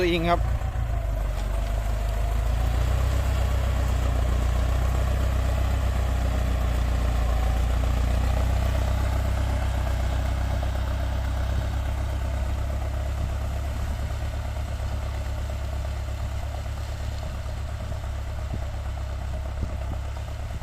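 A 5,000 cc Ford tractor diesel engine idles steadily nearby with a deep, constant low rumble, holding an even level throughout.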